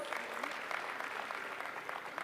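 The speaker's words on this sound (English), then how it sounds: "Give her a round of applause." Steady audience applause fills a hall at the launch of a national conversation event in Kenya, a dense, continuous patter of many hands at moderate volume without pauses.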